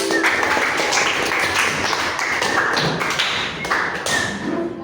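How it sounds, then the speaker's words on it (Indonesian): Classmates at an Islamic elementary school applaud a fellow student in a burst of clapping, many sharp overlapping hand claps in quick, uneven rhythm filling the room, close and loud throughout. "Kasih aplaus dulu untuk temannya."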